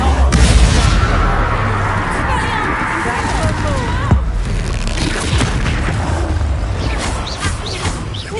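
Fire spell Incendio cast during combat in the video game Hogwarts Legacy, a loud booming burst over dense, continuous game noise and crashing effects.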